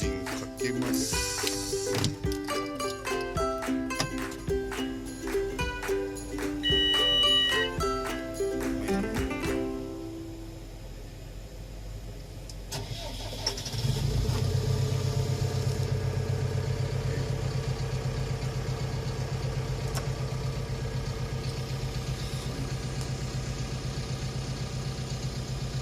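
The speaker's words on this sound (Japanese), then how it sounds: "エンジンかけます" A Cat D3K bulldozer's diesel engine cranks and catches after a stretch of music and clatter, then settles into a steady, rumbling idle that continues close by.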